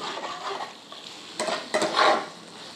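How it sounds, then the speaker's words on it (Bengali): Chicken gravy stirred in a pan after the lid comes off, a spoon scraping and sloshing through the thick mixture with faint sizzling beneath, louder scrapes clustered toward the end. "এইবার ঢাকনা খুলে নেড়ে নেব।"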